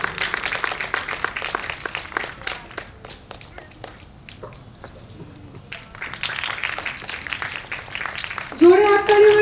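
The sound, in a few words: audience applause for the organiser Tania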